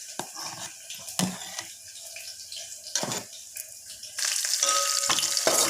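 Tempering (oggarane) crackling in hot oil in a village kitchen, spluttering pops and sharp bursts over a constant sizzle that swells louder toward the end, no talk.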